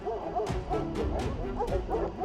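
A pack of dogs barks rapidly and repeatedly at a large wild animal, sharp yips and bow-wows overlapping in quick succession over a steady outdoor background.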